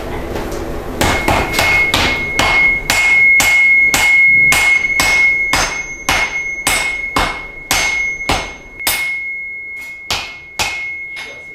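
A blacksmith strikes hot metal by hand at a forge, a steady run of loud, ringing hammer blows in close succession, each with a bright metallic ring, slowing and softening toward the end, with no talking.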